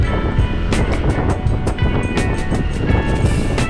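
Strong winter wind buffets the microphone in a continuous loud, rough roar with gusty surges, up close and alone.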